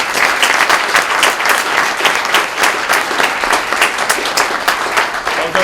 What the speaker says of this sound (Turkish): Sizler adına bir kez daha hep birlikte alkışlamanızı rica ediyorum.